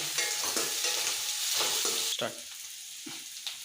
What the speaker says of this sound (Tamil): இதில் வந்து கத்திரி மாங்காவும் கொத்தரங்காவும் போட்டிருக்கேன். இது நல்லா வதக்குங்க.